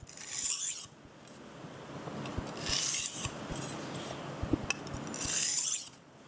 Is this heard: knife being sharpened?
yes